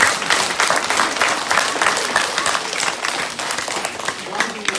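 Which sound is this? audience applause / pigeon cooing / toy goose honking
audience applause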